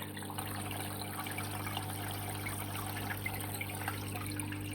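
Water pours steadily from the outlet pipe of an aquarium filter, its end drilled with extra holes, splashing onto the tank surface from above as a constant, fairly quiet trickling rush with no pauses.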